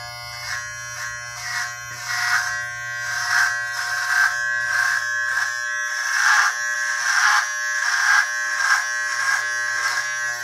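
An electric shaver trims head hair, giving a steady close buzzing whine that pulses and shifts in pitch as the blades move over the scalp, with no talking.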